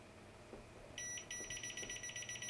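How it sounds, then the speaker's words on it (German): A Mastech MS8238H multimeter in cable-finder mode emits rapid, evenly pulsed electronic beeps. They start abruptly after about a second of quiet room tone and continue close and clear, with no talking. "wenn man zu dem Kabel hinkommt, desto näher man am Kabel ist, desto schneller piepst."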